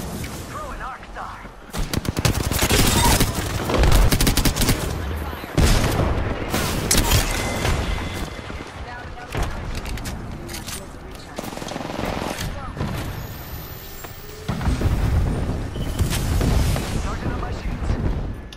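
Gunfire in a ranked match of a shooter video game: loud automatic bursts and heavy booming shots recur in waves, with short lulls between, and players talk over parts of it.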